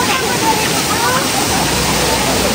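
Spring water gushes through pipes on its way to a village, a loud, constant rushing hiss close by, with a voice faintly mixed in.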